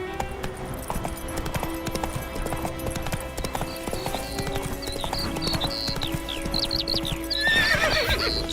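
Geralt's horse Roach in The Witcher 3 game, a steady rhythmic clip-clop of hooves throughout with a whinny near the end, over ambient game music and environment sounds.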